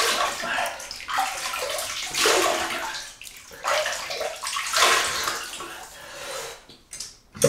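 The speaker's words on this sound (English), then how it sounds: "So here we go, wet the face." Water splashed onto the face from a running tap before shaving with a Rockwell Model T double-edge razor, heard close as repeated wet splashes and a steady rush of water, with no talking.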